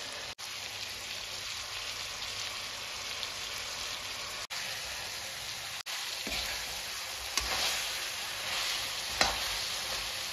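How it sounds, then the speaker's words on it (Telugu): Chicken pieces fry in hot oil with a steady, dense sizzle, and occasional clinks and scrapes of stirring rise above it. "ఆయిల్లో చికెన్ అనేది వేయించుకోవాలి గైస్."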